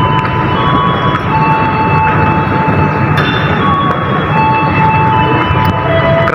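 Gajah Wong passenger train departing Kroya station, a loud continuous rumble with tonal whines and horn-like tones held steadily through the whole stretch.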